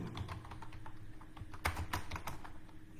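Quick, light keystrokes on a computer keyboard in an irregular run of clicks, moderately close and fairly quiet over a steady background hum, with no voices.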